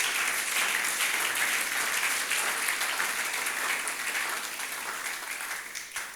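A church congregation applauds together in a sustained, dense wave of clapping that holds steady throughout and eases off slightly near the end, with no voices over it.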